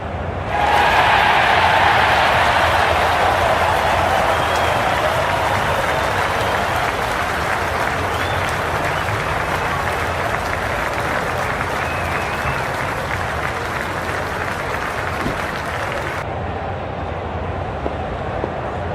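A cricket stadium crowd at the 2023 World Cup final between India and Australia, in the Cricket 24 game, applauds and cheers in a steady, loud, continuous roar that cuts off abruptly near the end.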